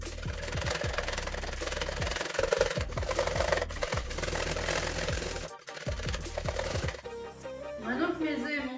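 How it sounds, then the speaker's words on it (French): Eggs and sugar whisked by hand in a bowl for brownie batter, giving quick rhythmic scraping strokes that run steadily for several seconds before giving way to a softer, different background. "On va devoir mélanger jusqu'à ce que la pâte blanchisse un tout petit peu."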